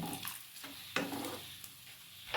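Spice paste for chicken kosha sizzles softly in a pan while a spoon stirs and scrapes against it, with a few sharp clinks; quiet and close, no voices.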